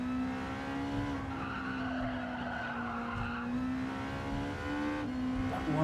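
A car in Gran Turismo 7 runs too wide through a corner, and its tires squeal and skid in a long sustained screech over a steady droning engine note, loud and close, with no voices.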